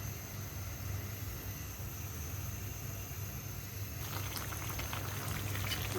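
Vegetable curry simmers in a pot with a steady, even bubbling hiss that turns more crackly and spattery in its last couple of seconds. No voices are heard.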